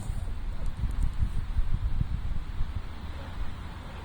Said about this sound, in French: il y a un vent glacial